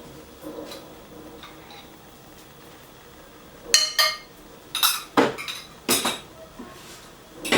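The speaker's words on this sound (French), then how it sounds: "en dernier lieu, j'ajoute de la crème fraîche." Crème fraîche is added to a pot of salt cod brandade, bringing a run of sharp metallic clinks and scrapes of a spoon against the pot after a quiet start, close and fairly loud.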